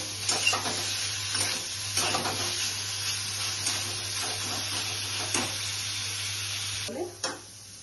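Paneer fries in ghee in a pan, a continuous close sizzle with repeated stirring and scraping, and a couple of louder clatters near the end.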